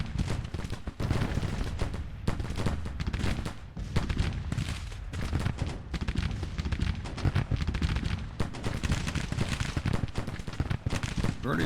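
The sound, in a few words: artillery battery firing, from a Civil War video game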